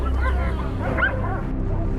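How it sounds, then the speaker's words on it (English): Hunting dogs yip and bark excitedly while cornering a wild boar in rugged mountains, several overlapping high-pitched cries close by over a low rumbling background. "The hunting dogs surround and corner the wild boar"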